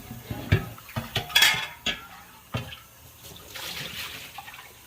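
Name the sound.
rinsing out a milking machine lid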